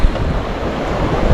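Typhoon Inday drives strong wind and rough water at a flooded coastal village in the Philippines, a loud, constant roar of gusting wind buffeting the microphone over churning surf, with no voices.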